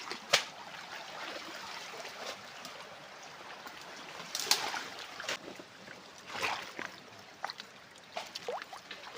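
Water trickling and flowing in a small forest stream, a steady close-up babble with scattered splashes and sharper clicks throughout.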